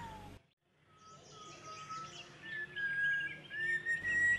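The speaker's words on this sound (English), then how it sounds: "Nilgiri pipit" Songbirds call in hill grassland in March, a Nilgiri pipit among them: a run of thin high chirps and drawn-out whistled notes carries over the second half at moderate distance, with no talk.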